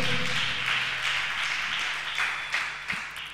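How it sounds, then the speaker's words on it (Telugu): A church congregation claps together in a brief round of applause, a steady patter of many hands fading off over a few seconds with no talking. "కొట్టు చప్పట్లు గట్టి కొట్టు."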